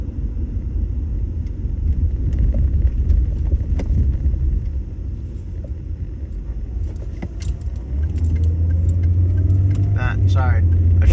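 A car driving along a rural back road, with steady low engine and tyre rumble throughout and a faint rise in engine tone near the end.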